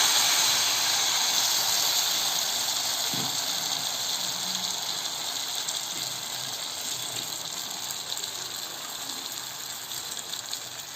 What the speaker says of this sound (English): Now you need to pour this mixture in hot piping oil.